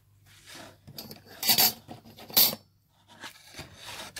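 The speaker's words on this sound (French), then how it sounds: "vous venez faire votre découpe sur l'arrière" Paper cut from the back of a greeting card makes a few short scraping, rasping strokes, with two louder cuts in the middle, close and unaccompanied by speech.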